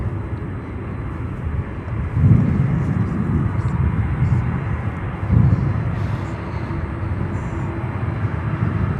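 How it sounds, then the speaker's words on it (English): Atlas Air Boeing 747-400 taxiing at O'Hare airport, a steady low engine rumble and hum held at a distance, rising slightly a couple of times, under outdoor background noise. "we have an Atlas Air 747-400 taxiing down to us"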